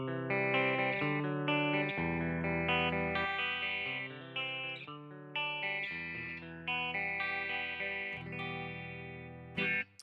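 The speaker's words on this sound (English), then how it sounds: "Let me put on some reverb." An electric guitar played through an amp modeler with spring reverb rings out sustained chords and notes, each attack followed by a lush, washy decay that trails into the next, clear and alone with no voices.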